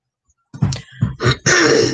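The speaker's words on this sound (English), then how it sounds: "Although I clear my throat a lot." A person clears their throat in a few short, rough, close bursts after a brief silence, ending in a longer harsh rasp.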